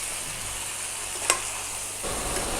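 Chicken frying in oil inside a covered pan gives a steady, soft sizzle, with one brief click partway through. The sizzle stays close and even and then brightens slightly near the end.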